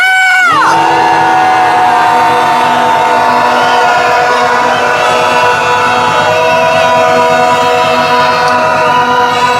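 A large crowd boos loudly and continuously outdoors at a protest in front of a police headquarters, a dense wall of jeering voices with horn-like tones droning beneath it.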